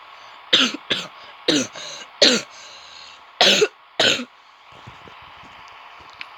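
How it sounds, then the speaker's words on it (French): A series of six harsh coughs, close by, in uneven bursts with short pauses between, then quiet with faint movement. "j'ai toujours ma toux"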